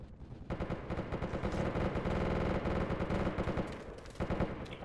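Sustained automatic gunfire from infantry weapons in the military shooter game Project Reality, dense rapid bursts firing almost continuously and loudly with no talk over it.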